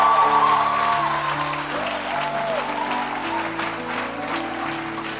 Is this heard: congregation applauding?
yes